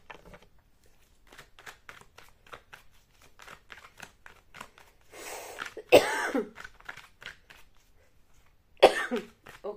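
A person coughs a few times, close and fairly loud, with a strong burst near the middle and another near the end, among quieter throat sounds and light movement noises.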